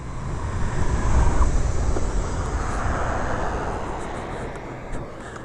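A 1989 Honda Dio Elite scooter with a big bore kit idles and revs roughly, a loud, steady, unsettled engine drone close by with wind noise over it and no talking.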